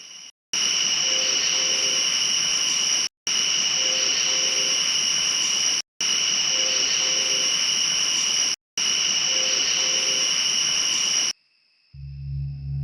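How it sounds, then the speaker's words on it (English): Four long, loud blasts of a train horn near Moonville Tunnel, each lasting a couple of seconds with brief gaps between, followed by a low rumble. "It was definitely a train horn."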